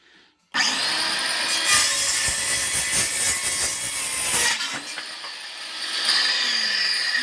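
A LUX TOOLS A-KS-20/150 cordless circular saw whirs up and cuts through a wooden board, a loud, close, steady whine with grinding that eases as the blade finishes the cut and spins down.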